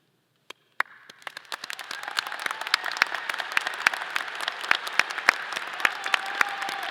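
Applause at a College of Natural Sciences commencement as honor society graduates are recognized, starting with a few isolated claps and building into steady, sustained clapping from a large audience.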